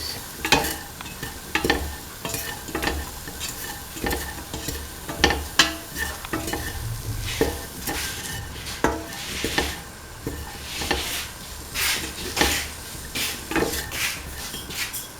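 Ivy gourd and coconut are stirred in a pan with a spoon that scrapes and clatters at an irregular rhythm over a soft sizzle underneath, close and clear.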